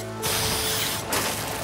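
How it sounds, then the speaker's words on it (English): A cartoon gadget face shield snaps open with a quick mechanical whoosh and ratcheting clatter, then a second burst of expanding mechanism sound follows a moment later, loud and close. "Activate your press-on expanding monobrow face shield."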